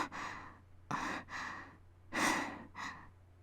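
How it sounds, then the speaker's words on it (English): Heavy breathing in the Fate Stay Night visual novel: a series of breathy inhales and exhales, close and fairly soft, with uneven rhythm like sighs and gasps. "That's some heavy breathing, man."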